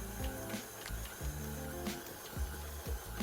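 A stand mixer kneads Neapolitan pizza dough with a low, rhythmic thumping and whirring motor drone, quiet and steady, the machine rocking on the counter.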